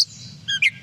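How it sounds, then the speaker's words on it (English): A gray catbird gives a single short, nasal, cat-like mew, a thin falling whistle followed by two quick buzzy slurred notes, close and clear in under a second. "So the gray catbird actually sounds like a cat meowing at first if you hear."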